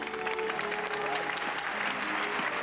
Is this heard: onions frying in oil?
no